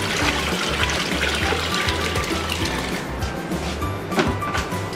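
Water pours steadily into a large tub of about 10 gallons, set up for hydrodipping, with a continuous close rushing and trickling and no talk.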